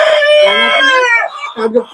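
Tiger and Fayoumi chickens cluck and crow nearby in a harmonic, squawking run, with a few shorter clucks trailing off at the end.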